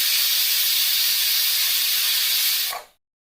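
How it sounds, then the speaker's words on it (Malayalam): A pressure cooker boiling a traditional preparation lets out steam through its whistle, a loud steady hiss lasting nearly three seconds before cutting off abruptly into silence. "നമ്മുടെ 3ാമത്തെ വിസിലും വന്നിട്ടുണ്ട്."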